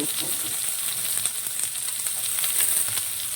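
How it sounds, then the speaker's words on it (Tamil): Cut onion fries in a pan for a drumstick-leaf stir-fry, giving a steady close sizzle with scattered crackles and light stirring noises, fairly loud and without any voice. "ஒரு வெங்காயம் கட் பண்ணி நல்லா வரட்டும். செவராக வரட்டும்னு பார்க்கலாம்."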